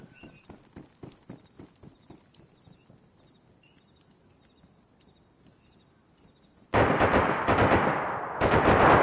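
Soft rhythmic footsteps over a faint insect-like chirp in the game DayZ, then sudden loud bursts of gunfire near the end.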